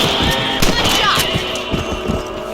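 A rifle shot fired while hunting rabbits in the Western video game Red Dead Redemption, one sharp crack followed by a further thump, over ongoing game ambience and music.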